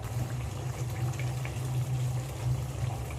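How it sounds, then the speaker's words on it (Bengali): Katla fish curry bubbling steadily in a pot, a continuous low simmering burble with a soft watery hiss, close and even, with no voices. "মাছগুলো দেওয়ার পর আমি নাড়াচাড়া করে আবারও 3-4 মিনিটের মতো ফুটিয়ে নেব"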